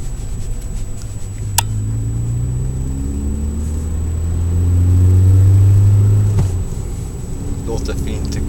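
Saab 9000 engine heard from inside the car while driving: a steady low drone whose pitch rises and falls with the revs, swelling louder midway, with a brief knock near the start.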